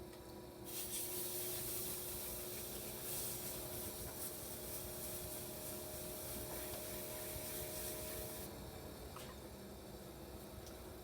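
A spinning potter's wheel in a home garage studio with hands shaping wet clay while throwing a bowl, giving a steady close rubbing, slurry-smeared texture over the wheel's constant low motor hum, without talk.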